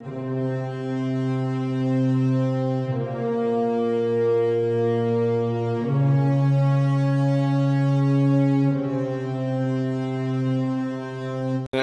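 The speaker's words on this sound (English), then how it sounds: "I also introduced horns and the brass instruments." Low sustained brass tones hold steady pedal notes, shifting pitch every few seconds in a slow descending bass line, loud and continuous with no voices.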